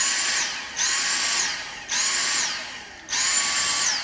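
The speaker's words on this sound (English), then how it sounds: "if the machine is clogged up, if there's too much on there or there's too much dust in here, it will do this." A clogged vacuum cleaner strains with a high whining motor note that surges and dips in three repeated cycles, each swell dropping away briefly before rising again, loud and close with no talking.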